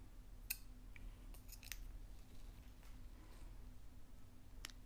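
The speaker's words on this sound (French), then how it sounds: "donc je vais couper mon fil." Scissors snip through knitting yarn in a few quiet, crisp cuts close by, with light clicks over a faint low room hum.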